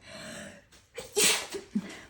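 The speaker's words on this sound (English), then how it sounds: "I'm about to sneeze, hold on." A single close sneeze, preceded by a few quick indrawn breaths and followed by a short exhale, loud and sharp.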